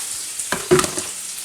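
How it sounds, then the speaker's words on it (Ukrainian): A sudden loud sizzle and hiss as water hits a hot pan of buckwheat patties in tomato sauce, bubbling briefly and then settling into a quieter frying crackle. "заливаю водичкою і буду тушкувати їх"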